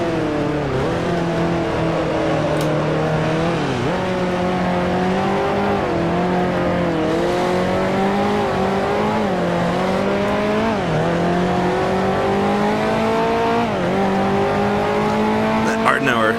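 A 1955 Formula One race car engine in the racing game Grand Prix Legends, a loud, continuous raw howl that rises in pitch through each gear, drops sharply at shifts and climbs again, with faint tire noise.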